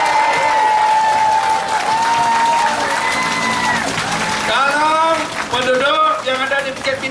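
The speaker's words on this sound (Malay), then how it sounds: "Tepuk tangan kuat-kuat." Loud applause from a crowd at a Malaysian political rally, dense clapping sustained throughout while a voice carries over it and tonal sounds rise near the end.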